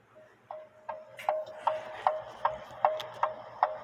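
Cuckoo clock ticking, picked up through a Timetrax Model 60 beat amplifier attached to a lower finial: a steady, even series of about nine sharp clicks, close and clear over a faint hum.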